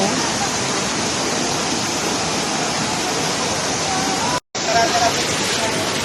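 Daranak Falls pours in a loud, steady broadband roar of falling water, close by, with a brief cut near the end, and faint voices of people blended under the rush.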